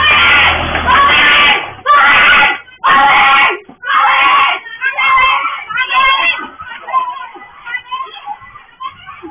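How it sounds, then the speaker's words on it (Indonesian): A phone-snatching victim on a street in Penggilingan, Cakung screams hysterically after a thief, a series of loud, high, strained shrieks in bursts with short gaps, captured on CCTV and gradually trailing into broken cries. "Korban yang dirampas ponselnya sontak berteriak histeris sambil meneriakkan kata-kata, maling"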